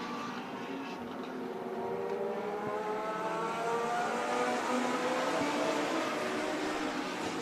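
Race cars circle Stockton 99 Speedway during a heat race, a distant blended engine drone with layered whining tones rising and falling as the field passes, fairly faint and continuous.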